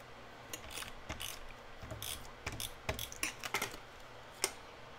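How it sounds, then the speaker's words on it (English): A handheld tape runner lays adhesive while photos are glued down onto a double-spine cascading mini album: an irregular run of close, soft ratcheting clicks and short scratchy zips over a quiet background, with no talking. "I use just a tape runner"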